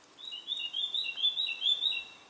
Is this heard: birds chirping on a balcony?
yes